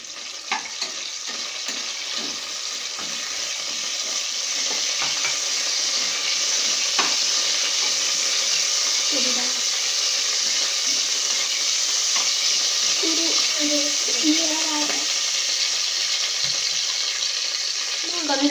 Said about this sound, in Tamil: அடுத்து இந்த மசாலா இது கொஞ்சம் நல்லா வதக்கிக்கலாம்